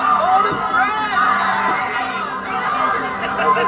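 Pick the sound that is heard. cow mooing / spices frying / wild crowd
wild crowd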